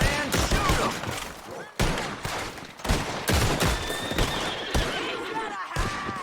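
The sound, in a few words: gunfire in video game Red Dead Redemption 2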